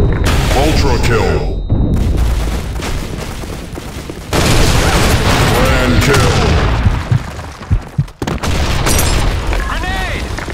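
Grenade blasts and gunfire in the online shooter BlackShot in team deathmatch mode: heavy booming explosions and bursts of rapid shots layer over each other at close range, with game voice callouts heard over the action.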